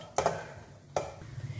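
Raisins and nuts roast in a pan while being stirred, two quick scraping strokes of a spoon against the metal over a soft background.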